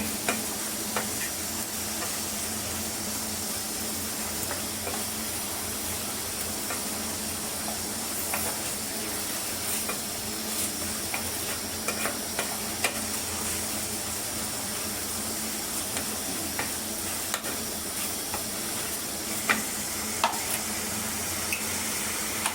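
Marinated chicken with onion and green chilli sizzling in a pan with oil, a steady close hiss and crackle with occasional pops and faint clinks, continuing without pause.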